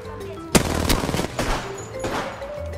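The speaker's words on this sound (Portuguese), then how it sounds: "O cara tá dando tiro na gente" Several sharp gunshots from Apex Legends crack out in quick bursts over a low background hum, with a few louder isolated shots near the start and end.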